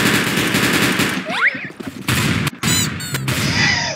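Video game gunfire in a gun-rotation free-for-all match comes as rapid, loud bursts of automatic shots and sharp cracks, broken by short gaps and a few whooshing effects.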